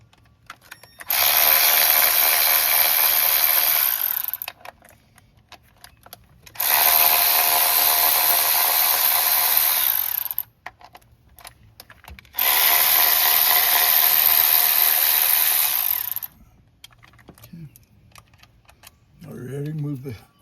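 Power tool working on a Honda CR-V engine to take out fasteners before removing the ignition coils, three long steady whirring bursts of several seconds each separated by pauses, close and loud, with faint clicks between.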